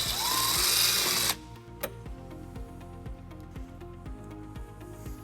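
A power driver runs loudly for about a second, driving a screw to secure a trailer wiring bracket on a 2012 Dodge Nitro, then stops. A steady ticking mechanical rhythm continues close by, with no talk.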